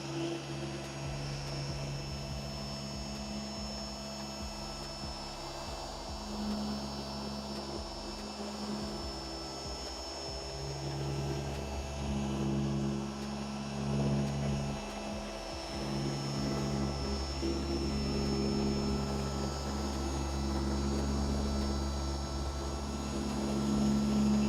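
A machine polisher runs steadily at speed 5, working compound on a 2000-grit finish, its motor giving a sustained whirring drone with a faint high whine and slight shifts in load as the pad moves.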